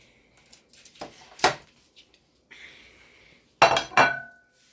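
Cheese steak made with ground turkey is moved back into a metal pan, giving a few sharp clinks and clatters of utensil on pan, with two louder bursts near the end and quiet gaps between.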